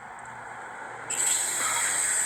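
A spray can starts hissing partway through and keeps spraying in a steady, close, bright hiss to the end.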